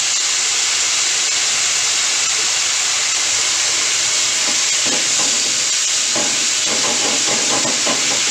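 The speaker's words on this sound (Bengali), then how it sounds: "এবারে আমি টমেটো কুচি দিয়ে দিচ্ছি," Chopped tomato sizzles and hisses in a pan over a medium flame, with a steady frying hiss and scattered soft scraping stir sounds growing more frequent toward the end, close and continuous with no talking.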